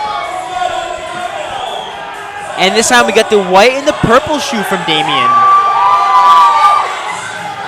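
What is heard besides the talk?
crowd cheering at CrossFit competition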